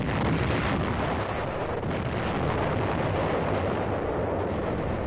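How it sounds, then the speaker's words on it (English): Naval ships of the UN fleet firing their guns point blank at an island at dawn during the Korean War landing, heard as a dense, continuous rumble of heavy gunfire in muffled, wind-buffeted old newsreel sound. "Ships of the UN fleet fire point blank at the island."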